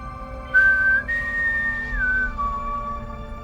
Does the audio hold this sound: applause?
no